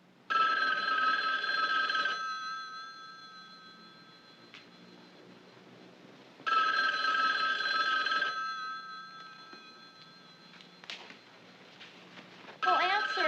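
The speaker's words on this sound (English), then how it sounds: "Well, answer it. It's just a phone." An old-style telephone bell rings in two-second bursts with long gaps between them, three rings in all. The ringing is clear and close, with faint room sound in the pauses.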